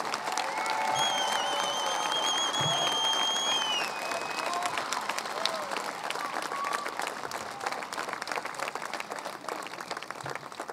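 Audience applause at a high school graduation ceremony, a large crowd clapping continuously for about eleven seconds with some cheering and whistles over it early on.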